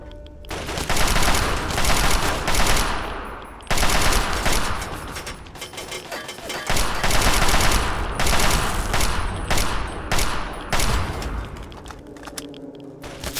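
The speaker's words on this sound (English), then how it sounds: "You're just shooting at me." Sustained gunfire from enemies in Fallout's Pitt area, dense rapid bursts and volleys rattling almost continuously with brief gaps, loud and close throughout.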